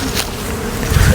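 Small honey bees buzz steadily around an open hive during a queen cell inspection, a continuous close drone that swells louder toward the end.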